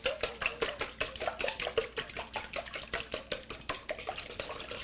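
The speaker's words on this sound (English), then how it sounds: "So after you've got the eggs all whisked and nice and fluffy" Eggs are whisked briskly in a bowl. The whisk clicks and rattles against the sides in a fast, steady rhythm of about four strokes per second, close and alone.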